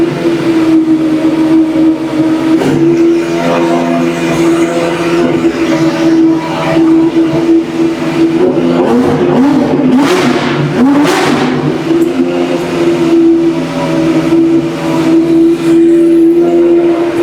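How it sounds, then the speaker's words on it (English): A McLaren race car with a Judd-based V10 engine revs hard, a loud sustained high-pitched roar with sharp rising and falling blips in the middle, heard up close without talk. "It's a Judd engine in this, right? it's Judd it's V10."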